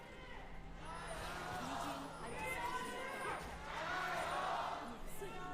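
Esports arena crowd during a League of Legends LPL match between Thunder Talk Gaming and BLG, cheering in swelling waves of roaring noise that rise and fall several times, with commentator-style speech mixed in.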